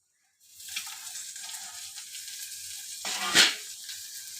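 Onions dropped into hot oil with fenugreek seeds burst into a sudden close sizzle that settles into a steady hiss, with a sharper flare of crackling near the end.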